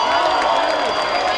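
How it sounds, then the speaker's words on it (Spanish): A crowd gathered in Lanzarote to celebrate Spain reaching the final after beating Germany applauds and cheers the mayor of Arrecife. It is a dense, steady roar of clapping and shouting voices that fills the whole moment. "un aplauso para el alcalde que nos ha traído a todos aquí."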